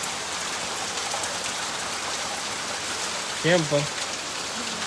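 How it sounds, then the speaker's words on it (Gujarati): Steady rain falls in a constant soft hiss on a rural farm setting, with a brief spoken remark rising over it near the end. "અત્યારે કે પાછો વરસાદ ચાલુ થઈ ગયો છે"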